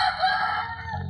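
A man imitates a rooster crowing with a short, strained, nasal call that starts loud, wavers and fades within about a second.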